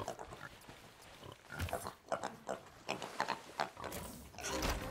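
Pig oinking in the pirate video game Sea of Thieves, several short grunts and snorts coming in quick uneven bursts, close and moderately loud, with game background sounds between them.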